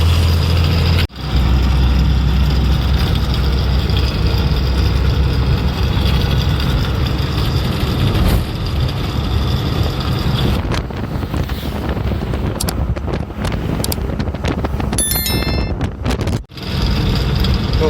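A small convoy of four vehicles drives along a mountain road, heard as a constant loud engine drone buried under heavy wind buffeting on the microphone.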